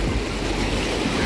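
Surf washes in steadily at Pitangueiras beach in Guarujá, a loud, continuous broadband roar of breaking waves mixed with wind buffeting the microphone, with no voices.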